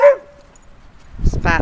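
A small beagle barks in a windy backyard: one sharp yelp at the start, a stretch of quiet, then a louder, rougher bark burst close by near the end.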